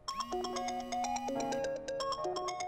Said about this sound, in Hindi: ओ चकला भाई फोन।